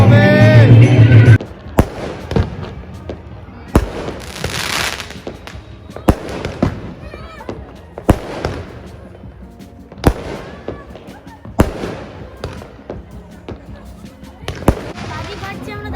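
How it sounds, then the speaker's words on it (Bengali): New Year's Eve fireworks burst over the Digha seaside celebration, sharp loud booms landing about every two seconds with crackling tails, while people talk and a crowd murmurs underneath. "বাজি ফাটছে, আমরা দারুণ এনজয় করছি।"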